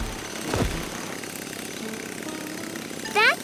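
A large cartoon drill runs as a continuous grinding, rumbling mechanical drone. A short thump comes early and a brief squeaky chirp near the end.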